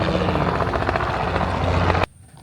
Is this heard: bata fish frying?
no